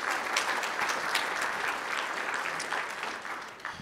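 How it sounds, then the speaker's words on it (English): Steady applause from a conference audience after a technical talk, sustained clapping that fades slightly toward the end. "We would give a round of applause."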